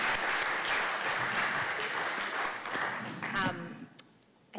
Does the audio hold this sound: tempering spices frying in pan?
no